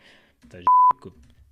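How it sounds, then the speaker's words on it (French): A short, loud, pure electronic beep from a test oscillator, used as a censor bleep, cuts through brief speech, a single steady tone with talking just before and after it. "Voilà, ça donne un bip."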